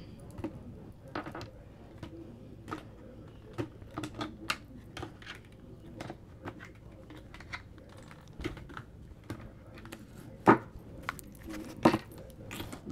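A tarot card deck cut and shuffled by hand, giving a series of soft, irregular card taps and flicks spread across the span, close up and quiet, with a couple of sharper slaps near the end.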